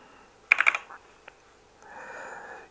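A file name is typed on a computer keyboard into Windows Notepad as a quick burst of four or five sharp key clicks, then a couple of single taps, followed by a soft rustle. Close and quiet, with no speech.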